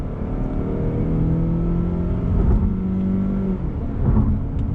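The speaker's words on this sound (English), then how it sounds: "I'm going to go through the actual gearbox with the paddle. So on throttle, second gear." A 2020 Mazda 3 AWD in manual mode pulls hard in second gear under throttle, its engine note rising steadily as it revs, heard from inside the cabin as a continuous droning hum with no talking.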